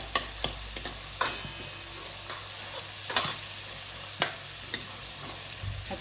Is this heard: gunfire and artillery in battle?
no